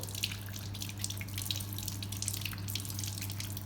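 Tap water runs steadily as hands are rinsed during a dressing-change hand-washing demonstration, a continuous splashing stream with a low steady hum underneath, no talking.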